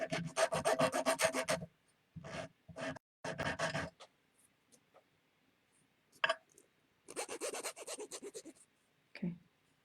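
A hand file rasps off the sharp edges of a small metal jewelry link in close bursts of quick rubbing strokes, with short pauses and a few faint clicks between them.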